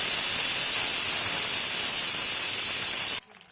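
A kitchen pressure cooker whistles, letting off steam in a loud, steady, high hiss. The whistle holds almost without change, then cuts off abruptly near the end, leaving a short quiet gap.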